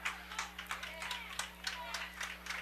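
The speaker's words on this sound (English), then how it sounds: "The Edgerton players are clapping" Edgerton football players clap after a penalty flag during a varsity game against Hicksville, a scattered run of sharp claps heard at a distance beneath a steady background hum.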